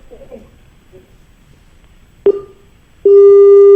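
On a farming phone-in program, a call fails with a faint click and short tone, followed by a loud, steady telephone busy tone starting near the end after a moment of quiet.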